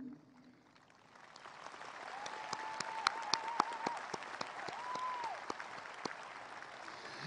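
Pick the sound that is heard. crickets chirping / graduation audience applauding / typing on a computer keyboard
graduation audience applauding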